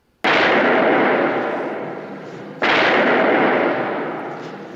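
Two loud, booming gunshots from the horror film Blacula, each a sharp blast followed by a long rolling decay that fades over about two seconds, the second shot landing mid-echo of the first.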